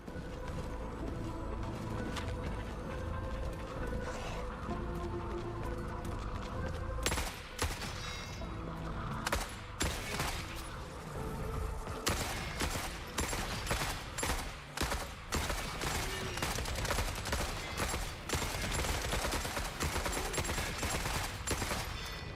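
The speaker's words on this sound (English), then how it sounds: "That was a grenade launcher, boy." Explosive grenade launcher fire and bursts of gunfire in the video game The Forever Winter, starting as a dense distant rumble and then breaking into sharp, loud, irregular blasts and rapid volleys over the second half.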